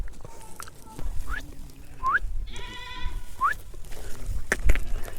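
A horned goat, about three or four years old, bleats several times close by at a farm, short wavering calls spaced across the moment, with outdoor background noise and a harmonic squeal in the middle.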